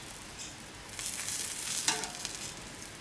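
Sausages cooking over the flame on an open BBQ grill, a soft steady sizzle and crackle with a brief sharper pop midway, fairly quiet and close, no voices.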